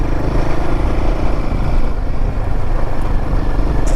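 Royal Enfield Himalayan motorcycle riding an offroad trail near Mandalpatti Peak in Coorg, a loud continuous engine drone with rumbling low end and wind, steady throughout with no talk.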